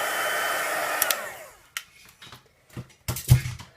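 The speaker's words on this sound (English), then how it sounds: "let's heat set this with our heat tool." A crafting heat tool setting gold embossing powder gives a close blowing roar that cuts off after a second and a half, followed by scattered clicks, taps and handling knocks.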